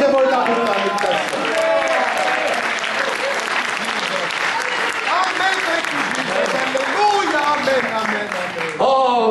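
Church congregation applauding at a bilingual Finnish-English sermon, a loud, dense wash of clapping sustained throughout with voices and a speaker's talk running over it.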